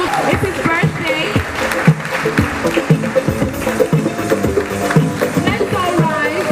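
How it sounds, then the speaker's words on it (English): A crowd applauds at the SHAPE Africa 2014 event in Abuja, with sustained clapping mixed with loud cheering, voices and rhythmic background music. "A round of applause"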